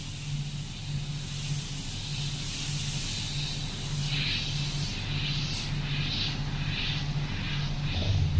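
Iwata CM-SB 0.18mm airbrush spraying paint, a steady close hiss that runs without a break, with a faint hum underneath.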